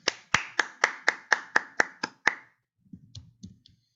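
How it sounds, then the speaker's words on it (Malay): A leadership training audience claps in unison, eight sharp, evenly spaced claps in quick rhythm, followed by a few faint scattered taps before quiet. "Satu tepukan."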